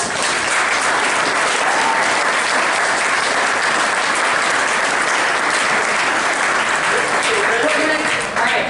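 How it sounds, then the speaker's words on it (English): An audience at a 2018 county commission debate gives a round of applause for the four candidates, loud sustained clapping that fills the room and tapers slightly near the end. "A round of applause to the four."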